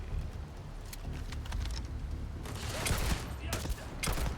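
Repeated gunfire from a Starfield shootout, with dense bursts and sharp shots crackling over a rumbling background that grows heavier partway through, as voices call out amid the fight.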